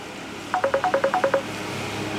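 A telephone rings with a quick burst of about nine rapid electronic beeps in a tight rhythm, clear and close, then the room goes quiet.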